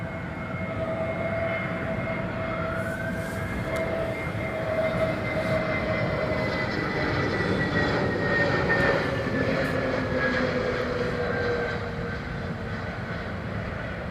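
An airliner landing at London Heathrow Airport, its engine roar loud and steady with whining tones that slowly slide in pitch as it passes close by, with no voices.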